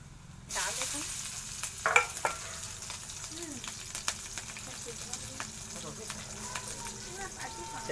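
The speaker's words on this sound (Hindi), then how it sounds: "चरचरात है।" Garlic and chilli hitting hot oil in a kadhai, an abrupt burst of loud crackling sizzle that keeps popping and spitting steadily close by, with a person speaking over it.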